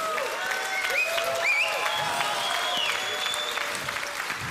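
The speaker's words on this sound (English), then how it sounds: "Let's have a round of applause for Tone." Applause from the audience at a Bitcoin debate in Malta, a steady patter of clapping that carries on for several seconds at moderate volume, with faint crowd murmur underneath.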